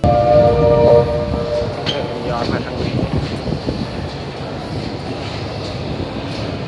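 A Moscow metro train rumbles through an underground station in summer, with a loud sustained roar and a brief high tone at the start, fading gradually as someone speaks briefly nearby.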